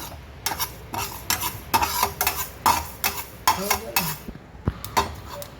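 Cardamom, sesame seeds, cumin and cinnamon roast in a pan for chilli oil rice, with a spoon scraping and clinking against the metal in quick irregular strokes over a faint dry sizzle.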